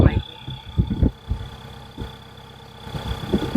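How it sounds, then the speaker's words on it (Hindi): A car engine idles with a steady low rumble and a faint, thin turbo whistle held beneath it, broken by a few soft thumps. "ये जो है आइडल पे एक मतलब हल्की सी विसल दे रहा है।"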